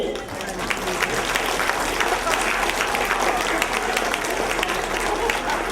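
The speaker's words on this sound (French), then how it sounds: "Oui, on peut applaudir." A crowd at a primary-school show applauds a stage set built for a third-year class, loud, dense and sustained clapping that holds steady throughout with faint voices mixed in.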